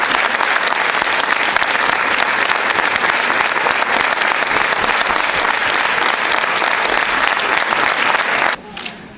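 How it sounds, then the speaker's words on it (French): A large audience at a cinema inauguration in Blanc-Mesnil applauds Nelson Mandela, dense sustained clapping filling the space at steady loudness for about eight seconds before cutting off abruptly near the end. "que l'on applaudisse quelques instants Nelson Mandela"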